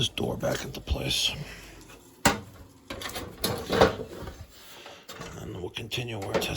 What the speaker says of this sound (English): put this door back into place.